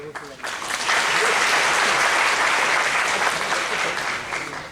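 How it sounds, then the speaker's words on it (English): A conference audience at an entrepreneurship awareness event breaks into applause, a dense burst of clapping that swells quickly, holds strongly for several seconds, then starts to taper off. "Please, a big round of applause for Mr."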